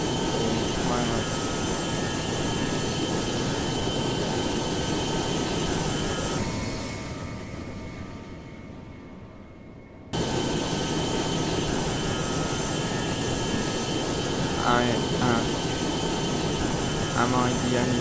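A British Airways A320neo's jet engines in a flight simulator game give a steady, loud broadband roar that fades briefly midway, cuts out, then returns at full strength.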